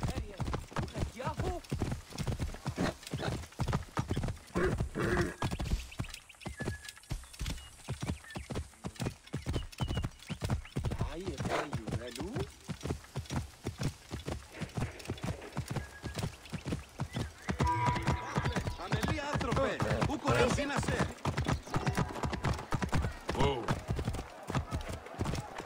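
Horse hooves clip-clop steadily through much of the stretch in Assassin's Creed Origins, with an occasional neigh, while a voice talks over the gait; the hoofbeats grow busier and louder near the end.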